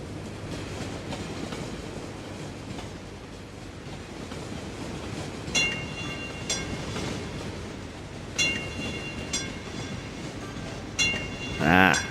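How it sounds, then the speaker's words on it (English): A tram rolling through a city in the game Cities: Skylines, a steady low rumble with rhythmic clicking of wheels over rail joints and a few sharper clacks, moderately close. "We should see our first tram coming out."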